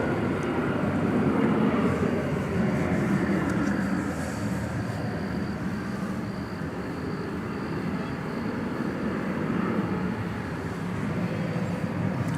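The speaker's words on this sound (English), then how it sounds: "American A319 from Albuquerque" An American Airlines A319 arriving from Albuquerque at DFW rumbles steadily at moderate level, a continuous broadband engine drone without clear peaks.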